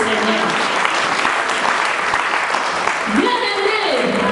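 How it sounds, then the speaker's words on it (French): A congregation at a women's church convention breaks into sustained applause, a dense, steady wash of clapping that holds for several seconds, with voices rising through it toward the end. "Bien-aimé, acclame le Seigneur."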